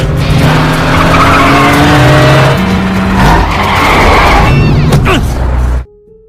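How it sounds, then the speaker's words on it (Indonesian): A race car in a film street race skids and squeals its tires over a loud roaring engine, with sliding screeches and revs before cutting off abruptly near the end. "dengan bermodalkan mobil seadanya, tak disangka Cheng Sun mampu memenangkan balapan itu"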